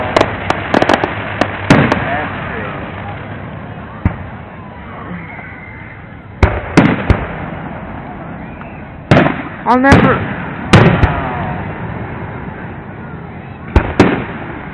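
Fireworks burst over Albion: a series of sharp, loud bangs at irregular intervals, some in quick clusters with crackling tails, while a person talks and reacts between the blasts.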